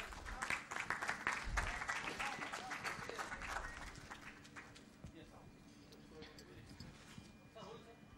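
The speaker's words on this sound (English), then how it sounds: "Kindly give them a big round of applause" Audience applause at a conference session after a speaker is called up to collect a certificate: dense clapping that is loudest for the first few seconds, then thins and fades, with some talk underneath.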